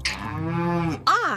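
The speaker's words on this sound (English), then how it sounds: "I am milking the cow." A cow gives one loud, close, drawn-out moo that ends with a short rising and falling tail, with no other sound around it.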